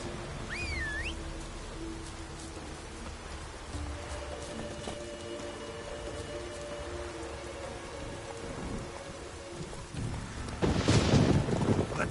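Steady, heavy rain in the video game The Witcher 3 pours down throughout, with a sharper swell of splashing near the end and a faint chirp early on.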